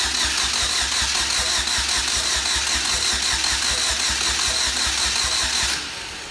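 A car engine fitted with a boost kit cranks steadily in a fast, even rhythm, loud and close, until the cranking cuts off near the end.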